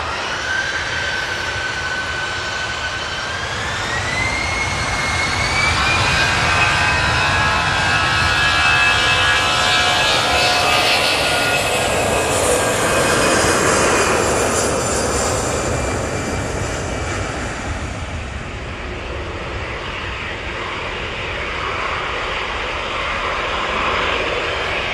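Aer Lingus jet airliner departing Manchester Airport for Dublin, a loud sustained engine roar with a rising whine as thrust builds, staying strong throughout and slowly shifting as the aircraft rolls and climbs away.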